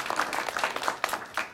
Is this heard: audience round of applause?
yes